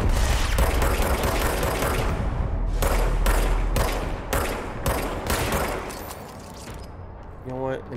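Rapid bursts of gunfire from the video game CONTROL, a dense fusillade of repeated shots that thins into separate blasts, with a player's voice talking over the action.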